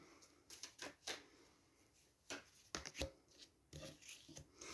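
Quiet riffling and snapping of cards in uneven bursts, like a deck being shuffled and cards drawn, close and soft.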